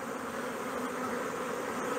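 Stingless bees scenting at the hive entrance in Newfoundland give a steady, dense buzzing hum, close and continuous with no voices.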